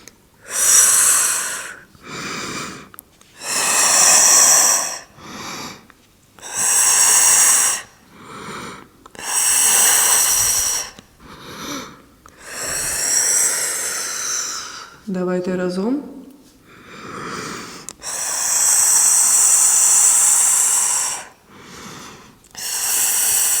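Deep breaths drawn in and pushed out slowly during a posture exercise for slouching, loud and close, in long regular cycles with short pauses between, and one brief voiced hum partway through.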